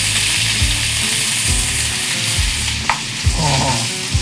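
Meat sizzling in a hot pan, a dense, loud, steady hiss of frying fat with occasional soft clinks and knocks of cookware, heard up close without talk.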